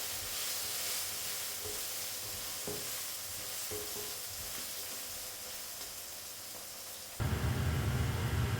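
Onions sautéing in a pan for fish curry: a close, steady hiss and sizzle with occasional soft stirring taps, growing suddenly louder and harsher near the end, with no talking.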